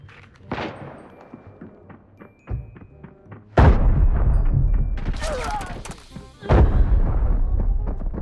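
Heavy bursts of gunfire and explosive booms in the video game Arena Breakout, loud and dense, with sharp blasts near the middle and end over a steady rumble.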